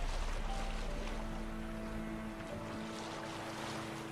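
A sailing ship glides across the water in The Witcher, its steady broadband rush of waves and wind holding at an even level throughout, with low tonal hums running underneath.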